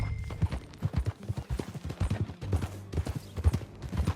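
Horse hooves in Red Dead Redemption 2 clip-clop in a steady, close rhythm of sharp knocks, one hoof after another, at a walking-to-trotting pace with faint ambience underneath.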